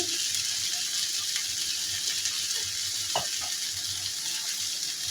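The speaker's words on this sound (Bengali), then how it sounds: "আমি এখন চালটাকে ভালোভাবে কষিয়ে নেব" Washed rice frying for prawn pulao, a steady close sizzle with occasional stirring scrapes and clinks against the pan, no voices.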